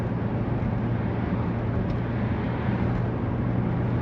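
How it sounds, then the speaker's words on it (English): Steady low tyre roar and road rumble inside a moving 2009 Citroen C5 Tourer 2.0 HDi estate, a constant even hum with no talk and no distinct events. "the tyres on my car are quite noisy, but you can probably hear if I drop the tone"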